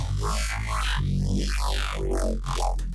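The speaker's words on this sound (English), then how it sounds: "that's how you make a pretty easy and nice Neuro bass" A heavy, growling bandpass neuro bass synth with sweeping filter movements that rise and fall, loud and continuous with no voices.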